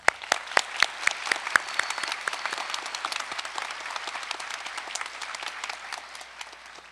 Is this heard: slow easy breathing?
no